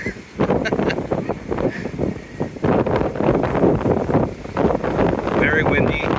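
Strong gusty wind at Daytona Beach buffets the microphone in loud, rough bursts, with people talking through it on the windy beach.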